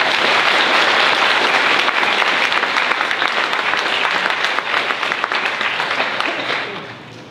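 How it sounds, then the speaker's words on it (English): A theater audience at the Assembly Theater in Harrisville gives sustained, loud, dense applause that holds steady, then fades away toward the end. "I think you deserve a round of applause for that."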